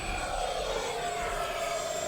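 An Arrows Avanti S 50mm EDF radio-controlled jet flies past, a steady whining ducted-fan drone at moderate distance that holds constant throughout, with a faint shifting tone.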